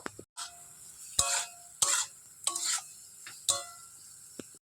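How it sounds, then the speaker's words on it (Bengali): Greens and shrimp curry being stirred in a pan, with a spoon scraping in several separate strokes amid a soft, steady sizzle. The sound is close and moderately quiet, and no voices are heard. "ভালো করে মিশিয়ে নেব"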